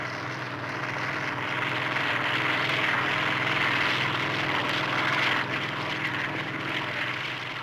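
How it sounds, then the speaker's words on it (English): A Sikorsky helicopter flies overhead, a steady broadband engine and rotor roar holding loud and continuous throughout, with no voices. "Sikorsky helicopters, combining moderate aircraft speed with the ability to hover over a target area"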